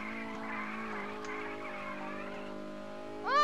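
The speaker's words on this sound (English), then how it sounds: "That was a nice drift." A car drifting in the Roblox racing game Rev: a sustained, steady engine hum with a sharp rising tire squeal near the end, loud and close, with no talking.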